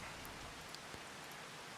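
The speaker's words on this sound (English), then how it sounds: "the rain just got here" Steady rain falling in a farming video game, a soft, even wash of noise with a few faint drop ticks, quiet and unbroken.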